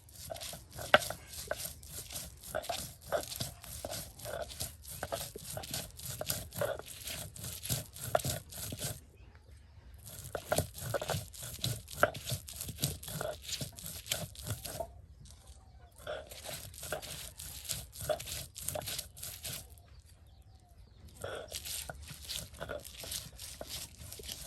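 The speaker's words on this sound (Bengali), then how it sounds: "এই শুটকি, রসুন এবং পেঁয়াজ একসাথে কিন্তু এখন দিয়ে পাটায় ফেসে নেওয়া হবে।" Dried fish, fried garlic and onion ground together on a stone slab with a stone roller, giving steady repeated crunching and scraping strokes with brief pauses, close and moderately loud, with a voice heard faintly at times.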